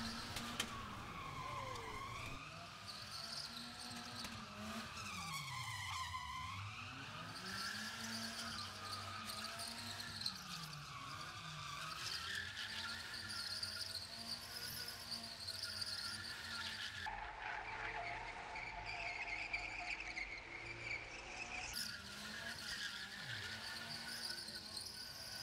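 A car does burnouts at the Long Beach Motorcycle Show, heard from a distance and fairly faint: the engine whines up and down with squealing tires and sweeping pitch, along with crowd noise, for a sustained stretch.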